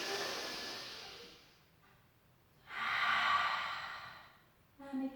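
Deep breathing during a pilates stretch, a long exhale that fades, a pause, then a strong audible inhale-like breath swelling and fading, followed by a brief onset of another breath at the end.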